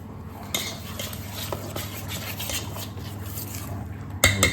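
Spoon stirring rava dhokla batter made with curd in a bowl, close scraping and soft wet swirling with occasional clinks against the bowl, ending in a louder knock.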